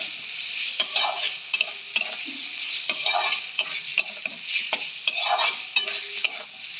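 Boiled potatoes are stir-fried in a hot pan for a plantain kofta curry. A spatula scrapes and clatters in steady, rhythmic strokes over a constant close sizzle.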